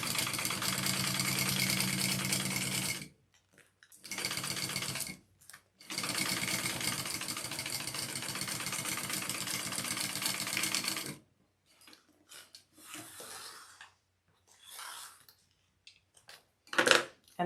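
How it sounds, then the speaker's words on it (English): A sewing machine top-stitches rows along a quilt back panel, its fast needle chatter running in long bursts separated by pauses, with quiet handling noises between runs. "So I'm going to do 2 rows of top stitch along the top here."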